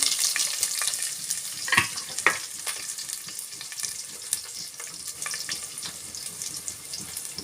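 Mustard seeds, cumin, dried chillies, curry leaves and onions sizzle in hot oil for a palak rice tempering, a steady bright crackle with a few sharp pops and spoon clicks, close and with no talking.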